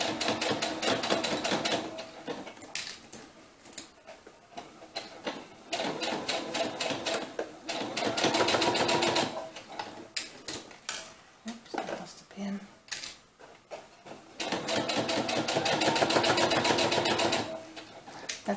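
A sewing machine fitted with a jean needle stitching through a bulky doll winter cap, running in repeated bursts of rapid rhythmic clatter separated by short pauses, with a voice talking in between.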